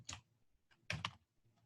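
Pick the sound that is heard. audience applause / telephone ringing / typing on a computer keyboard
typing on a computer keyboard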